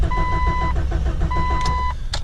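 A Jeep XJ engine cranks without catching, a steady rhythmic starter churn with repeated pulses, close and fairly loud, with a couple of brief high beeps near the end.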